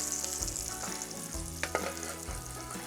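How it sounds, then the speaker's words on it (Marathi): Pomfret fish fries in a pan of hot oil, giving a continuous close sizzle with some stirring and scraping noises and a few sharper crackles, and no voices. "हा रूपचंद मासा आहे, हा पण फ्राय करून घेऊया."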